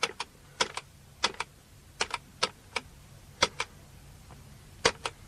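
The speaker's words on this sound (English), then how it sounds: "punch the number out on this keyboard" A number is punched out on a computer keyboard in a radio drama: about fifteen crisp key clicks, some in quick pairs, separated by short pauses. They are quiet and close, with no talking.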